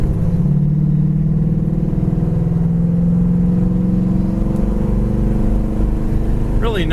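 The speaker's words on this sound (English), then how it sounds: "Really nice running, driving car." A 1972 Buick Skylark engine drones steadily at highway speed, a loud continuous low hum with road and wind noise holding constant throughout, near and unbroken by talk.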